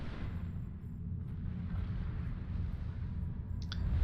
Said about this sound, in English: that's going to be another painful bombing run there